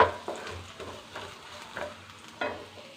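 Ingredients being sautéed in a pan for moru curry, with a spoon scraping and stirring in several soft, spaced strokes over a faint, low sizzle, heard close with no voices.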